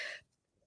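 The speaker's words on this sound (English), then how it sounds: "I hope I'm not going to cough too much" A single short cough from an indoor speaker, sharp and close, lasting a fraction of a second before fading into quiet room tone.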